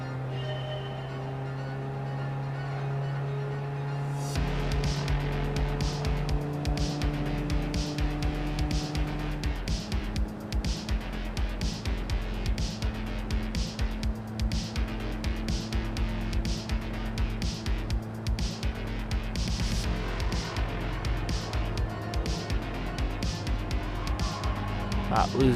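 A classic car drives in Gran Turismo 7, its engine droning loud and steady with shifting tones through the lap, under what sounds like ongoing talk.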